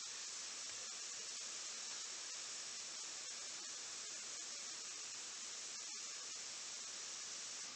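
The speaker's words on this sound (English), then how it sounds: "Just keep it like on a medium heat, and they'll just be cooking up really, really good." Salisbury steak patties fry in a skillet over medium heat, giving off a steady, faint sizzling hiss that runs unbroken throughout.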